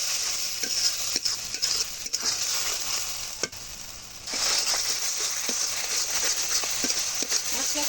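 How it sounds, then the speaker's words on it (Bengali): Panch phoron whole spices frying in hot oil with cardamom and cinnamon, a loud continuous close sizzle broken by repeated light clicks and scrapes of stirring. "দিয়ে দিচ্ছি পাঁচফোড়ন"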